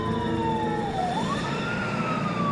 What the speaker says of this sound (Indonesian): Melihat Karjo tak sadarkan diri, dia segera menelpon ambulan.